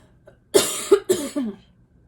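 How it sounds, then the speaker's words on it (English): A person coughs several times in quick succession, close and fairly loud, with short raspy bursts and brief pauses between them. "Oh, I have to cough again."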